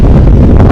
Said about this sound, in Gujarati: પવનની ગતિ, પવનનો અવાજ સાંભળી શકો.